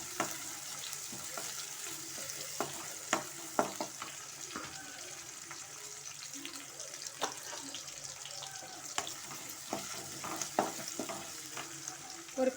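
Chopped large onion sautés quietly in a pan, a soft sizzle broken by scattered clicks and taps from stirring.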